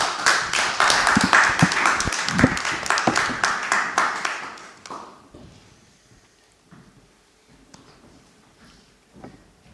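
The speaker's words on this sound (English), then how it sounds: "A round of applause for Solomon, please." A room of attendees at a business event claps for a speaker, brisk applause for about five seconds that fades out into near silence.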